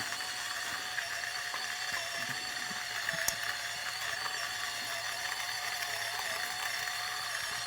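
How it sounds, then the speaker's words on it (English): A coffee grinder motor runs from a hot start as beans are loaded and ground, producing a steady mechanical whine with a faint rattling grind and one sharp tick, close and even throughout. "we're going to start the motor right away, and then load coffee into the grinder as it's grinding"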